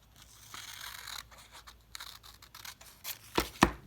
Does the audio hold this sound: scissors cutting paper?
yes